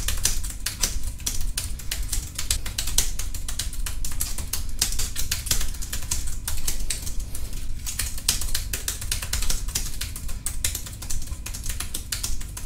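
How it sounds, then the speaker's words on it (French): Rapid, steady clatter of keys typed at random on a GemiBook Xpro budget laptop keyboard, close and continuous with no talking. "j'écris des choses un petit peu au hasard, c'est pour voir un petit peu le son que ça fait"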